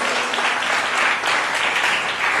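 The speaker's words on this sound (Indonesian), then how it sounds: "Berikan tepuk tangan bagi Yesus" Steady, dense applause from a large seminar crowd filling the space, sustained evenly throughout with no talking.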